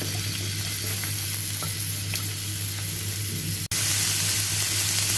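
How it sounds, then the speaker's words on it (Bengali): Onion, chili and carrot frying in a little mustard oil, a steady loud sizzle with occasional stirring scrapes and one sharp click near the end, no talking. "এখন এর মধ্যে আমি পেঁয়াজটা দিয়ে দিব, মরিচটা দিয়ে দিব, সব কিছু দিয়ে একবারে ভেজে নিব ওখানে।"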